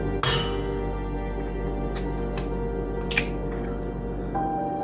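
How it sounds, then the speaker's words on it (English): Eggs cracked into a stand mixer bowl for upside-down pizza dough land with a soft wet plop and squish, followed by a few faint clinks over a steady low machine hum. "First thing I want to do is add a couple eggs."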